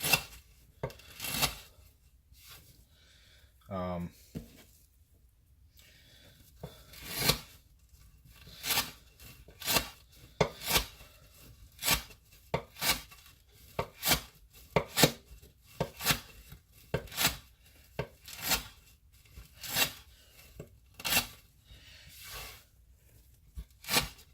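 A Zero Tolerance 0350 folding knife with an Elmax steel blade slices through rope in repeated short, crisp cutting strokes, steady and close with brief pauses, no one talking.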